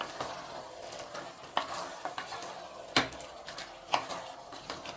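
Chicken pieces being stirred into yogurt and onions in a pot for chicken biryani, with soft scraping and several sharp clinks of a spoon against the metal over a quiet, steady background.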